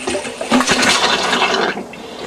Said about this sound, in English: So what we'll do here is just turn the lever all the way to cold and release.